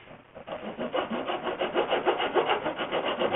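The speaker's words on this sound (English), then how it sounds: "Then my mortise, using my files," Files rasp back and forth inside a mortise in a wooden stool for a three-legged Chinese-style build: a close, quick series of about a dozen rhythmic scraping strokes.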